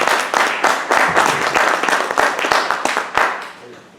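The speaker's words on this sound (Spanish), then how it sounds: "lo recibimos con un fuerte aplauso, por favor" An audience welcomes a speaker at a maxillofacial surgery session with clear, fairly close applause, individual claps audible in a brisk rhythm before it tapers off.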